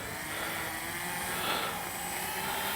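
An RC B-25J model airplane takes off with flaps set, its motors giving a continuous, fairly loud whining drone that swells slightly midway as it passes.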